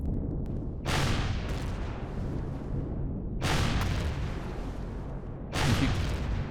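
Missiles launching from a ship at mining towers in Empyrion Galactic Survival, three separate loud whooshing blasts spaced a few seconds apart over a continuous engine rumble.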